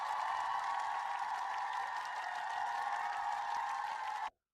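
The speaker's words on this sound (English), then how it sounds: "I don't know if you can hear the applause noise." Recorded crowd applause played as a sound effect over a game stream, a steady wash of clapping at even loudness for about four seconds before cutting off abruptly.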